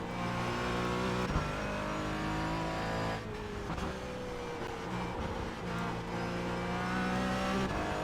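Race car engine lapping the Nürburgring in the iRacing sim, a loud steady high-revving drone with gear shifts and revs dipping and climbing throughout, continuous with no talk.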